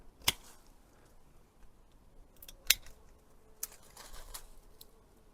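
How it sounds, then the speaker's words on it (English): Secateurs snip through the stems of a Pieris forest flame bush during pruning: a few crisp, isolated cuts spaced seconds apart, close by and fairly quiet against a hushed outdoor background, with no talking. "So I'm going to try and cut just above there"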